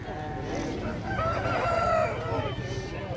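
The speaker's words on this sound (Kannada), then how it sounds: "ಇಲ್ಲೂ ಇದೆ ನೋಡಿ ಹುಂಜಾಗಳು." A rooster crows loudly and close by at the Hindiganala poultry and Aseel market near Bangalore, one long drawn-out call over a murmur of market background noise.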